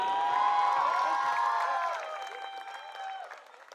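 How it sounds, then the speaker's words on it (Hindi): Audience clapping and cheering at a live music evening in Bikaner, Rajasthan, dense and loud at first, then thinning and fading over a few seconds. "एक बार जोरदार तालियां बजा दीजिए"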